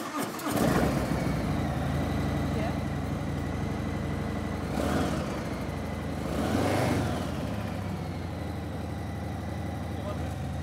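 A motorcycle engine cranks and catches, then idles at a steady mid-pitched rumble with two swelling throttle blips, heard close and loud throughout.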